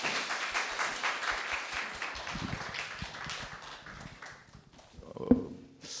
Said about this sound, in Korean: 좋은 글을 써주신 이동호 작가님께도 박수 한번 부탁드립니다